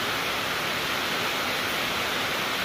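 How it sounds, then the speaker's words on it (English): Heavy rain pounds a workshop roof in a dense, steady hiss that fills the space evenly, loud and unbroken with no voices. "it decided to rain, and it's very loud in the shop"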